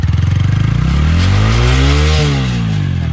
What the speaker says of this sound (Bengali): আস্তে আস্তে রেস দাও